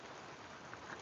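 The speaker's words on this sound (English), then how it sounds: "now it's raining harder." Steady rain falls outdoors during a live stream while someone works with wire, making a continuous soft hiss with no distinct drops and no talking.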